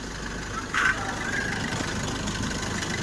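A Maruti Brezza engine idles in a steady, even hum with a low rumble, close by and constant throughout, with one brief louder bump near the start.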